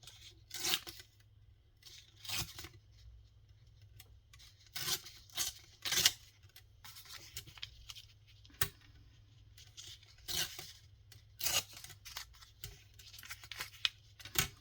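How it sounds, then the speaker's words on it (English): Paper edges being ripped for a junk journal: a series of short, crisp tearing bursts in an uneven rhythm, close and clear over a low background hum. "I'm just going to rip it, the edges a little bit."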